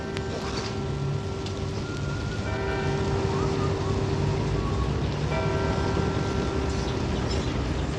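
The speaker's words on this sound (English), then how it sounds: "This is the sound of Anchorage at the corner of Main Street, 4th Avenue and F" Busy downtown street corner at Main Street and 4th Avenue in Anchorage, Alaska, on a weekday around 5 o'clock: a steady, dense wash of traffic rumble with a constant hum and faint tonal bits, continuous at moderate level throughout.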